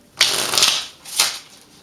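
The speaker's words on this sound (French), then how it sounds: "Donc, je vais mélanger ces cartes." Playing cards being shuffled by hand, two quick riffling bursts close up, the first longer and the second shorter, with nothing else heard.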